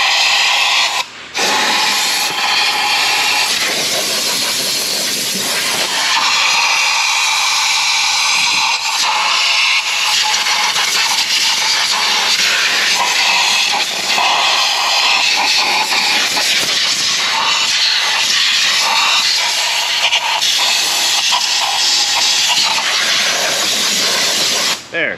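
Compressed air blasts loudly and continuously into a car's spark plug well, a harsh, close hiss lasting over twenty seconds with a brief break near the start.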